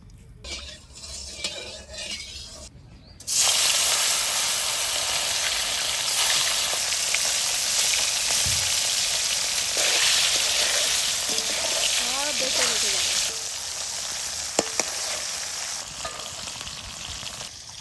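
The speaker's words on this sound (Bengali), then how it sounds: "মাছগুলো একটু কড়া করে ভাজবো" Fish pieces rubbed with salt, turmeric and chilli fry in mustard oil in a wok, a loud, dense, steady sizzle that starts abruptly after a few quiet seconds and carries on with occasional faint clinks.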